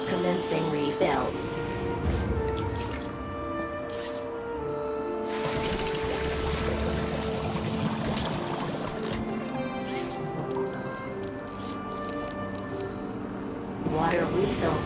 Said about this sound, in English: Water refill complete.